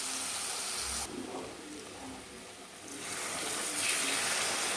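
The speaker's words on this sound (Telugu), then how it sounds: "నీళ్లు వేస్తున్నాను." Water poured from a vessel into chicken curry in a pan, a close gushing splash that starts, softens midway and swells again, with no talking.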